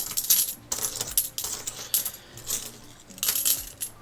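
Coins drop and clatter repeatedly during a roll hunt of quarters, coming in several bursts of jingling metal that are close and fairly loud, with no talking.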